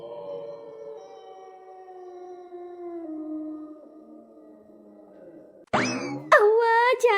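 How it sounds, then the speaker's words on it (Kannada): A cartoon dog howl sound effect: a long, wavering, tonal howl that holds for several seconds, then gives way to loud, springy boing-like comic effects at the end. "ಯಾಕೆ ಇದ್ದಕ್ಕಿದ್ದಕ್ಕೆ ನಾಯಿ ಕೂಗ್ತಾ ಇದೆ?"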